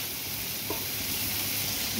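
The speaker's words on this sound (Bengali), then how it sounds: "ভালো করে আমি ক্যাপসিকাম, টমেটোকে পেঁয়াজ, লঙ্কা দিয়ে ভেজে নেব" Capsicum and tomato frying with onion and chili in a pan, a steady close hiss of sizzling oil running throughout with a soft stir scrape partway through, no voices.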